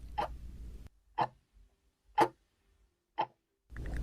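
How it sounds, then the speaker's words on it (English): Clock ticking in a quiet room, four sharp ticks spaced about a second apart, clear and fairly close against near silence. "Maybe the ticking of a clock"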